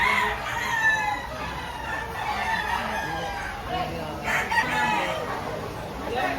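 A White Kelso rooster crows repeatedly at a rainy poultry market in Lipa, Batangas, its cries rising above constant crowd chatter and nearby clucking.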